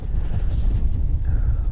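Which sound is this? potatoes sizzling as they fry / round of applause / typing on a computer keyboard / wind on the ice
wind on the ice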